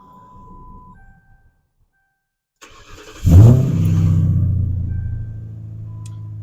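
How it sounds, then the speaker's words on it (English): A car engine cranks and catches partway through after a near-silent pause, then settles into a steady, fairly loud idle rumble with a faint high whine, alone without talk. "Now let's see if we can go through all the gears."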